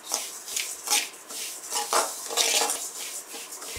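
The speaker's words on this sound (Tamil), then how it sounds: "ஆயில் எதுவுமே சேர்க்காம வெறும் உடைச்ச கோதுமை மட்டும்தான் நான் வதர்த்துட்ருக்கேன்." Cracked wheat dry-roasting in a pan without oil is stirred with a utensil, making a steady sequence of close, gritty scraping swishes with light rattles of the grains, and no talking.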